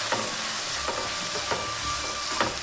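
Vegetables such as beans, carrot and capsicum being stirred with soy sauce and tomato sauce in a hot pan while making fried rice, with steady frying sizzle and a few spatula scrapes, close and without talk.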